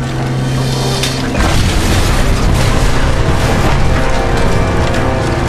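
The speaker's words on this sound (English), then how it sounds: "All I heard was this large explosion" A massive, sustained roar of explosion and burning from the wreckage of a crashed Boeing 747 on a rugged hillside in Guam, loud and dense throughout with a deep rumbling low end.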